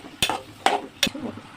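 Tamarind with tomato, curry leaves and coriander fries in a pan, heard as three sharp, close stirring scrapes spaced about half a second apart over a low, soft sizzle.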